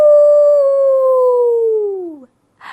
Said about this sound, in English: A wolf is a scary animal. It howls at night. It goes, awoo.